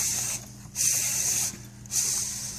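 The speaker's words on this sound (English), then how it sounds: "The machine will thread itself the rest of the way." Race 3001 RL-1 label machine threading its label roll by itself: two bursts of high mechanical whirring hiss, each lasting under a second, with a steady lower motor hum between them.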